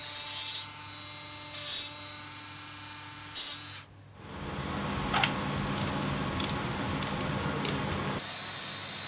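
Wood for the sides of a ukulele bass is sanded by hand, first in short rasping strokes with pauses, then a longer steady scraping pass, close and moderately loud.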